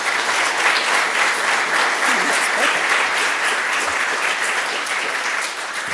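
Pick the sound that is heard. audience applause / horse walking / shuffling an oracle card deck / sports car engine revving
audience applause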